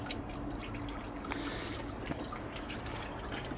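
Coolant drains from a 30-year-old Volvo 940 cooling system in a steady close trickle with scattered drips, fairly quiet and unbroken.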